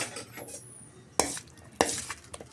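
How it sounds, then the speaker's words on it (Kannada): Onion, capsicum and masala stirred in a pan for paneer masala, with a few sharp scrapes and clinks of a spoon against the pan over a quiet background. "ಇದನ್ನೆಲ್ಲ ಹಾಕಿ ಒಮ್ಮೆ ಮಿಕ್ಸ್ ಮಾಡ್ಕೊಳ್ಳಿ."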